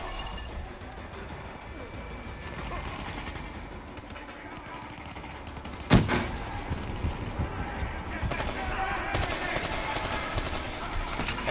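Black Ops III gunfire crackles in a busy Call of Duty multiplayer fight, with a sharp crack midway and a continuous clatter of distant shots, all mixed under players' voices.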